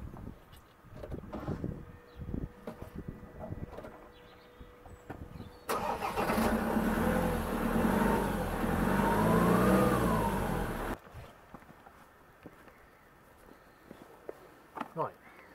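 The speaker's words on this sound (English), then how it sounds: "prime the vehicle and fire up the engine" After some shuffling and thuds, a Land Rover Defender 2.2 TDCi diesel engine cranks and catches, running loudly with a rough, rattling rumble for several seconds before cutting off abruptly.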